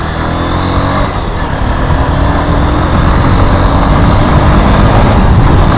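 A motorcycle cruises at a steady speed on a road in third to fourth gear, its engine giving a continuous, loud, even drone with road and wind noise and no talking.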